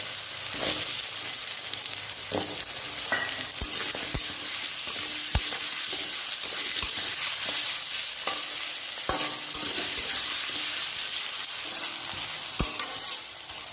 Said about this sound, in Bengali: আলুটা আমার ভাজা ভাজা হয়ে গেছে